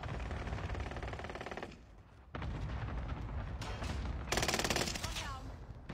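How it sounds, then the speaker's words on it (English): Gunfire in an online shooter game: rapid bursts of nearby automatic shots, loud and crackling, with a short lull and then heavier firing, mixed with game ambience. "I hear somebody's shots are freaking close"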